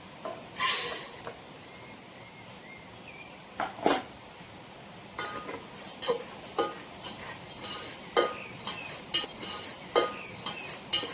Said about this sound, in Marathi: मी यात खरपूस हे उडदाची डाळ भाजून घेते